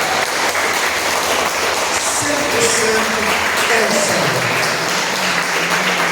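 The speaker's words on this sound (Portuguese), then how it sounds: "Convido a igreja a dar uma forte salva de palmas ao Senhor Jesus." A church congregation claps steadily and loudly throughout, with a voice speaking over the applause and faint music underneath.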